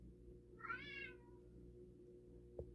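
A house cat gives a single clear meow, close and fairly quiet, over a faint steady indoor hum, followed a moment later by a brief soft knock.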